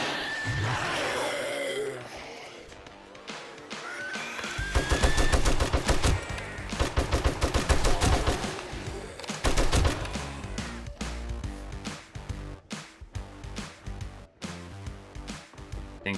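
An M60 machine gun firing in the zombie survival game 7 Days To Die: loud, rapid bursts of close gunfire, some long and some clipped, broken by brief gaps and fading into scattered shots toward the end.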